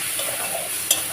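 Spice paste of soaked chilli powder and cumin being stir-fried for egg curry, a short, soft frying hiss with one brief scrape of stirring near the end.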